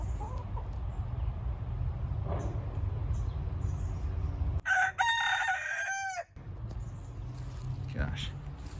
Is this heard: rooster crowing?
yes